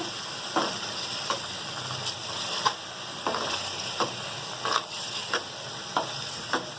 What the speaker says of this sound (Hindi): अब उसमें ये पूरी की पूरी मैं पालक डाल दूँगी। अच्छी तरीके से हम मिक्स करेंगे